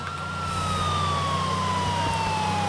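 Police car sirens in GTA 4 wail steadily and loud throughout, a continuous tone sliding slowly downward over a low vehicle rumble.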